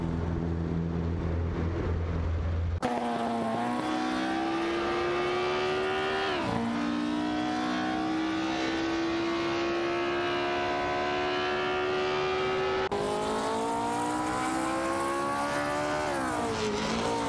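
Race car engines in a simulated AI race, a sustained high whine that rises and falls with gear changes, several cars blending together, loud and continuous with no talk over it.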